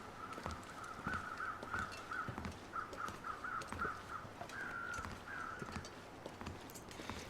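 Crows in The Long Dark video game caw in a run of short repeated calls over a steady windy background, with faint footstep-like thuds beneath.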